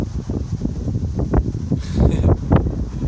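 Cold wind rumbles and thumps against the microphone in uneven gusts in Montana, loud and close, with no voices.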